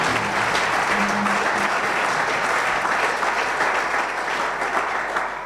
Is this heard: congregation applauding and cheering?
yes